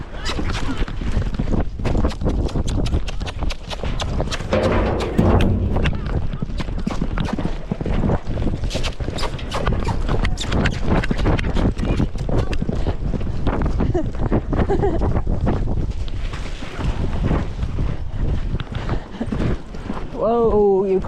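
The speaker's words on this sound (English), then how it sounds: "Whoa, you crazy horse." Horse hooves clip-clop steadily throughout a ride, mixed with wind buffeting the microphone and a rider's voice talking over the rhythmic footfalls.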